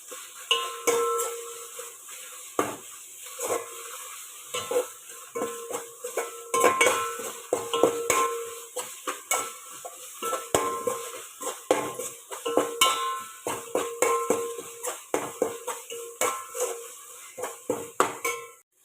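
Ginger and garlic stirred in a pan while cooking coconut milk rice, a spoon repeatedly scraping and clinking against the metal in an irregular rhythm, close and fairly loud, over a faint sizzle.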